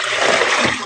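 Dishwater is dumped out of a basin after washing dishes, a short loud splashing gush that lasts under a second, close by and alone.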